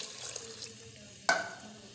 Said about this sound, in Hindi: पानी और थोड़ा सा डाल दो बस।